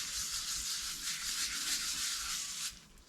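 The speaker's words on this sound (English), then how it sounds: "You can hear it sounds like sandpaper." Yorkshire grit abrasive rubbed by hand with a tissue onto laburnum wood with copper inlay, a steady close scratchy hiss like sandpaper that runs continuously and then stops near the end.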